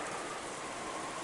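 Heavy rain in the Umineko visual novel game, a steady dense hiss of falling rain that stays even and moderately loud throughout, with no voices.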